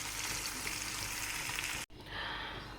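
Potatoes and tomato frying in a pan give a steady, dense sizzle that cuts out briefly near the end and then resumes a little more softly, with no talking.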